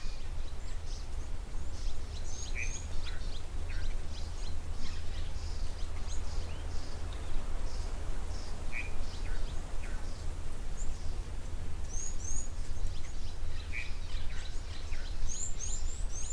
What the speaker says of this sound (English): Wonderful to be listening to some bird calls,